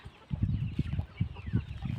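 Chickens cluck in a steady run of low, close clucks over two seconds, with no other sound competing.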